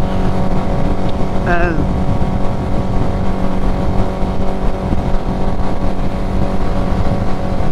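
Motorcycle cruising at speed on an open road, a loud steady engine roar mixed with heavy wind rush that holds throughout, with a brief voice cutting in near the start.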